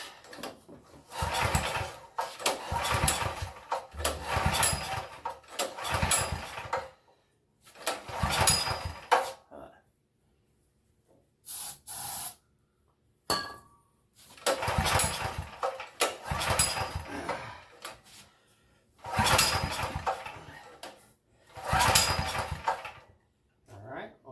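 A cheap yard sale generator engine is cranked again and again, each pull giving a short burst of rough sputtering and clatter separated by silent gaps, loud and close, with brief bits of talk between tries.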